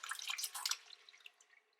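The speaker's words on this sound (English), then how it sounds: "to pour the curds and whey over the lined strainer" Curds and whey poured into a lined strainer, a quiet trickling and dripping of liquid, busier at first and then thinning out to sparse drips.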